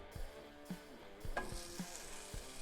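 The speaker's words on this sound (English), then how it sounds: "I believe that our skillet is up to temperature. So let's get our first piece of bacon on there." Thick slices of smoked pork belly bacon sizzle in a hot skillet, a steady close crackle with brief soft pops and a faint clank as a piece goes in.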